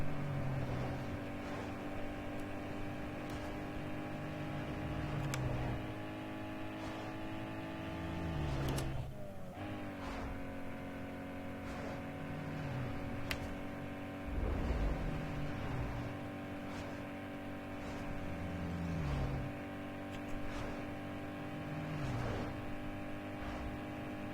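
Steady engine drone of a car driven in the racing video game Need For Speed Underground 2, with repeated rising and falling gear-shift revs over a continuous hum, alone without talk.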